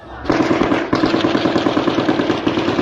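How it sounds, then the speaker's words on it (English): Rapid automatic gunfire from Israeli military warning shots fired into the air near civilians gathering food in Gaza, a loud sustained rattling burst, briefly broken, then continuing fast and regular. "This gunfire is the IDF firing what they claimed were warning shots in the air"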